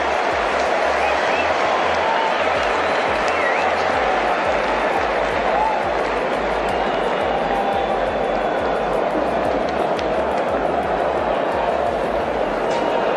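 A cricket stadium crowd roars and yells without a break during a tense Kiwis vs Aussies super over. The wash of shouting is loud and dense, and faint talk runs beneath it.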